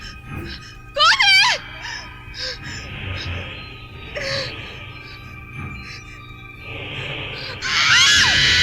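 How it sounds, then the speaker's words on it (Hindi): A woman's high, piercing scream from the horror film Raaz rings out, then a second scream rises near the end over a low, eerie rumbling background. "वैसे जैसे किसी लड़की ने चीख मारी हो।"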